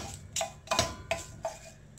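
Mustard seeds splutter in hot oil for a South Indian greens kootu: a handful of sharp, separate pops and crackles, spaced unevenly over quiet background hiss, close by.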